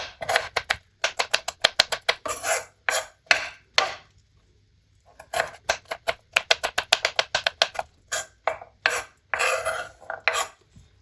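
A knife chops vegetables into small pieces on a board while sarson ka saag is being prepared: quick, close, crisp taps in rapid bursts, with a short pause partway through.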